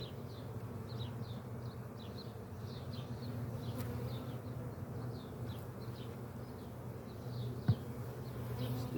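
Dense, steady hum of honeybees from an opened hive during an inspection, a continuous drone with faint buzzing flickers above it and one brief knock near the end.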